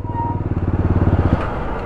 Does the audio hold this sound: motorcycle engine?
yes